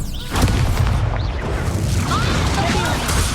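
A spell blast in Hogwarts Legacy erupts as a loud booming crash with whooshing debris and rumble under a shouted incantation and other voices.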